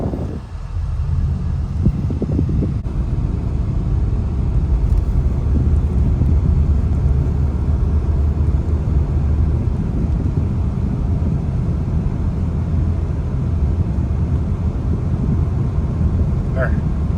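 An Acura ZDX cruises at normal speed around 45 mph, with a steady low road and engine rumble plus wind noise filling the cabin throughout; a person talks faintly at the start.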